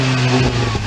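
A car engine revs up loudly and close by, a steady mid-pitched motor tone rising slightly in intensity over a brief moment, with no voices.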